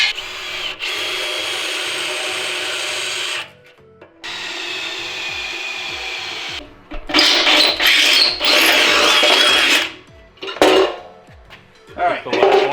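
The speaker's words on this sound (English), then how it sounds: "I'm gonna go ahead and grab my drill and start drilling it out." A drill cuts out spot welds on the damaged frame of a wrecked 2017 Ford Focus RS, loud sustained whining bursts separated by short pauses, with clattering metal and scraping between runs, close up.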